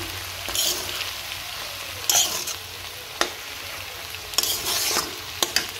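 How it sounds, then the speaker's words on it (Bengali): Dried fish (shutki) frying in a pan gives a steady hiss, broken by several irregular scraping strokes of a spatula stirring it, loud and close, with no talk. "মাছটা দিয়ে একটু ভালো করে নাড়াচাড়া করে নিচ্ছি।"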